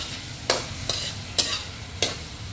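Shrimp dropped into a hot pan for shrimp fried rice, with four sharp bursts of sizzling as they are stirred and tossed, close and moderately quiet over a low frying hiss.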